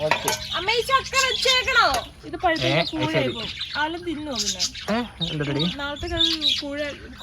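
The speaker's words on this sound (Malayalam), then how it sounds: "ഈ കിളികളുടെ സൗണ്ട് ആണ് ഏറ്റവും കൂടുതൽ" Birds chirp and squawk repeatedly in the background while people talk over them close by.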